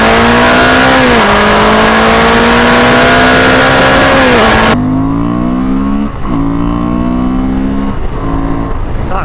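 Honda Transalp 750 or CB500X motorcycle accelerating hard in second gear, a loud close engine note climbing steadily in pitch, dipping briefly at a shift, then climbing again.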